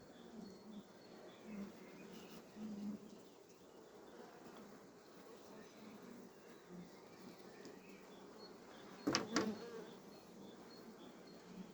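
Carniolan honey bees in a hive box hum with a faint, steady buzz in a quiet outdoor apiary, with a brief louder buzz near the end as one passes close.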